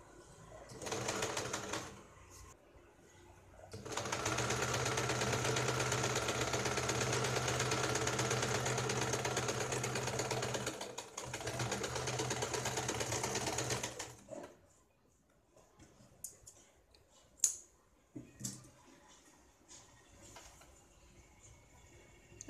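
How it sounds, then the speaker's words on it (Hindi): A sewing machine stitches the lining of a blouse with a rapid, steady mechanical whirr. A short burst is followed by a long continuous run of about ten seconds, then faint handling noises in near silence. "तो अब यहाँ पे हमें इसको सीधे में सिलाई"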